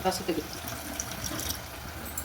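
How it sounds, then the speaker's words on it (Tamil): Tamarind water poured into a pan of rasam, a close splashing, gurgling pour under someone talking. "ரசத்துக்கு தேவையான அளவுக்கு தண்ணி ஊற்றிக்கலாம்."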